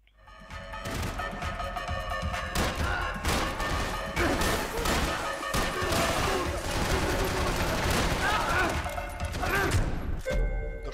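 Rapid bursts of gunfire in the video game Max Payne 3 crackle continuously amid clattering impacts and crashes, dense and loud throughout, with a few fainter pops near the end.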